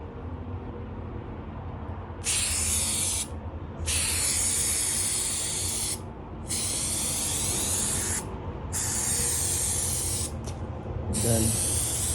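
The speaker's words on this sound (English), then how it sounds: "this is the 3M Super 77 multi-purpose adhesive. I'm gonna spray it all across." A can of 3M Super 77 multi-purpose spray adhesive hisses in four long, loud bursts of several seconds each, with short pauses between, as it is sprayed across a car roof headliner during a repair.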